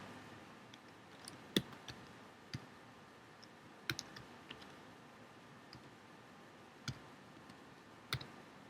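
Sparse clicks of a computer keyboard as a university name is typed into a Facebook profile form, a few isolated taps spread over a quiet room tone, faint and close.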